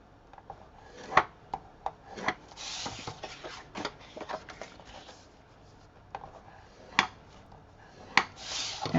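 Cardstock pieces are scored with a tool, bringing sharp clicks and short rubbing scrapes at an uneven pace, close and fairly loud, with no voices.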